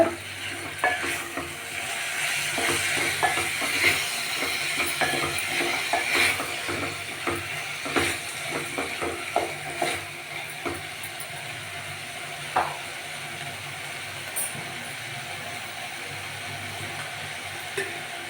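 Cooked vegetables being stirred and mixed in a hot pan for a dry vegetable palya, giving steady frying sizzle with repeated scraping and clacking of the spoon against the pan, close and continuous without talk.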